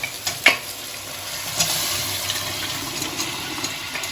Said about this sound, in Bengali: একটু মিশিয়ে নিয়ে এবার আমি ছোলাগুলো সব দিয়ে দিচ্ছি।